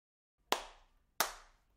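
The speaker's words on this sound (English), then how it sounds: "2 deliberate claps echoed in response." Two deliberate hand claps about 0.7 seconds apart, sharp and crisp with a short echoing decay, alone in otherwise silence, used as a sound effect in a horror story set in a woodland cabin.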